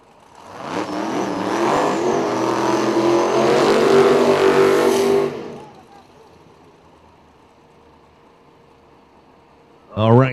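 Drag race car engine revving hard at a drag strip for several seconds, loud and rising, then cutting off into quiet, with a brief sharp burst of sound at the very end.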